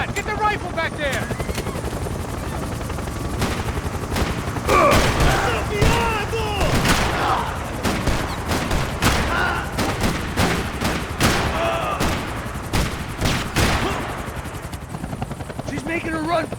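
A helicopter's rotor thuds steadily through a video game scene while bursts of rifle gunfire crack out repeatedly, loud and close, with shouting voices over the action.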